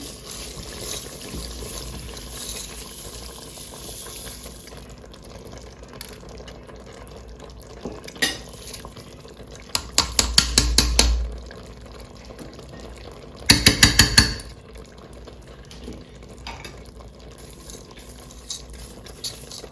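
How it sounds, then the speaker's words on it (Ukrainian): A spoon stirs rice into plov inside a multicooker bowl, giving two short bursts of quick rhythmic scraping against a quiet background. "десь ось так перемішую"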